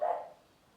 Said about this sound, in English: Not sure who she's barking at.